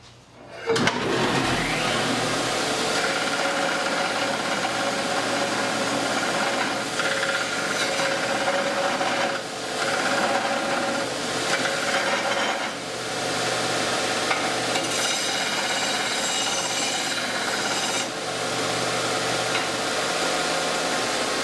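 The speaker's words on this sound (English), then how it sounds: "let's try out this belt side. The belt's kind of toast." Delta 4x48 belt sander running on its worn belt side, a steady loud grinding whir that holds evenly throughout with slight fluctuations, no talk.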